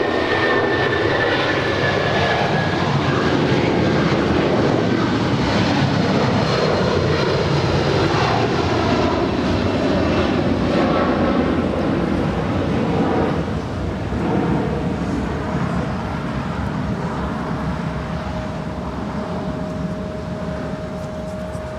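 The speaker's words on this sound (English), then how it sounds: "That was United 1250 departing to San Francisco" A United Boeing 757-200 jet takes off from Los Angeles International Airport on runway 25 right, its engines roaring loud and steady throughout, with a rising whine and a broad rumble that gradually ease as it climbs away.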